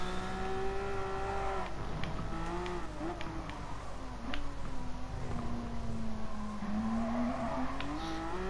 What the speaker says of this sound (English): Oh, kicking out some gravel there